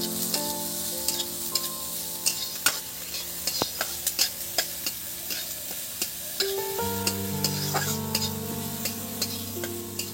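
Finely chopped onion and green chili fry in a pan while being stirred, giving a continuous close sizzle broken by frequent utensil clicks and scrapes, with steady tones humming in the background.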